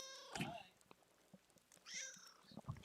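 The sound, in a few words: cat meowing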